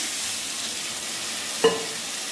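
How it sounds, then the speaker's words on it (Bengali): Water poured into a hot pan of potato and pointed gourd curry sets off a steady sizzle, with a short sharp splash partway through standing out above the frying hiss. "জল অ্যাড করে দিচ্ছি"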